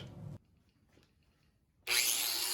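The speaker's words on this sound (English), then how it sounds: "Then I cut the third and final board pretty much the same way." A handsaw cuts a wooden offcut board from a sawmill, with a short rasping stroke, a near-silent pause, then loud, steady close sawing.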